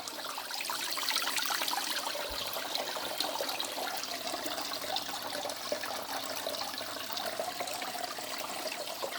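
Water being pumped out of a 60-litre home aquarium during a water change, a steady continuous gurgling, trickling rush of liquid that stays close and even throughout, with no talking.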